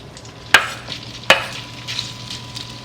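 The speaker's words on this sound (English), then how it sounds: "So let's go put them in our preheated pan that we have with a little bit of olive oil" Food pieces dropped into a preheated pan with a little olive oil, two sharp hissing sears in quick succession, then a soft crackling sizzle that fades down.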